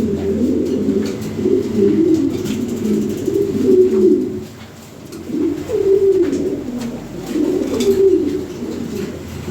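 European Lahori pigeons coo close by in repeated throaty, rolling phrases, loud and near, with brief pauses between bursts.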